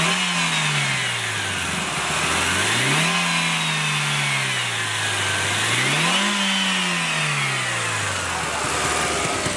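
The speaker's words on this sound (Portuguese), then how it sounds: "o ronco original do carro antes de colocar o filtro" A Chevrolet Prisma 1.0 or 1.4 engine with its original intake revs up and falls back three times in a steady rise-and-drop pattern, close and fairly loud.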